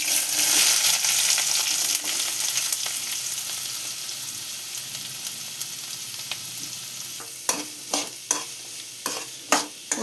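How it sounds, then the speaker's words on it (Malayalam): Onion frying in hot oil with mustard seeds while cooking okra thoran, a loud hissing sizzle at first that settles into softer crackle, then sharp repeated spatula scrapes and taps near the end. "അങ്ങനെ കടുക് പൊട്ടി അതിലേക്ക് ഉള്ളിടുക."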